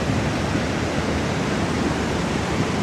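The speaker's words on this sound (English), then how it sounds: "That is the beauty of a waterfall." A waterfall pours in a steady, dense rushing roar, loud and unbroken, with no voices over it.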